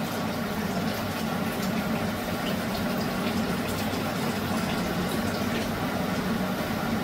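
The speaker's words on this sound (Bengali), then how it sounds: "এবার এতে পরিমাণ মতো জল মিশিয়ে দেব।" Water pours steadily into a cooking pot of broken wheat (dalia), making a loud, continuous rushing hiss that holds without a break.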